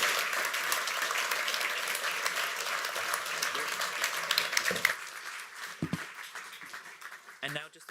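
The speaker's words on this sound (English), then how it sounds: "If we could all just give them all a round of applause." Audience applause at an evening public talk on transport futures, a steady wash of clapping from a seated crowd that fades out midway before a few scattered claps and a voice begin to talk.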